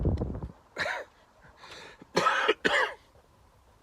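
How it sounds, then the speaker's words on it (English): A man coughs in a shed in several harsh bursts, a few small ones first, then two loud, rough coughs close by near the end, with quiet room noise between. "bloody cough's come back again"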